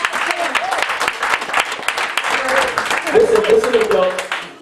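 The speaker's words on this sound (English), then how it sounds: "Can we give God a hand clap and praise?" A church congregation claps in praise, a dense stretch of crowd applause and cheering that runs throughout, with voices calling out over the clapping.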